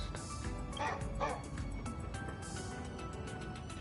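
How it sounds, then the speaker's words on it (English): A small dog yips and barks in a few quick bursts near the start, then fainter whimpery yaps follow over a low background hum, with no talking. "Did you hear that too? Bark bark."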